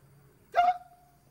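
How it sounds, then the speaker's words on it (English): One short, sharp hiccup sounds up close against a quiet background, a brief voiced gulp with a thin tonal tail fading quickly. "129 hiccups!"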